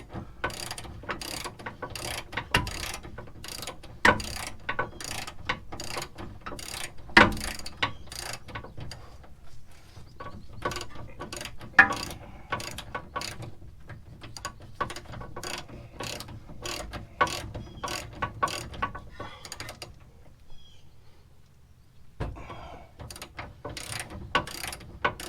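Ratchet wrench backing out a big, long control arm bolt on a Honda Ridgeline front suspension, a steady rapid clicking of the pawl in repeated bursts with brief pauses, close and alone without talk.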